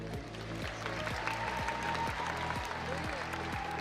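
Audience applause at the first day of the 2026 Russian jumping championship, a steady wash of clapping from the crowd over rhythmic music playing in the hall.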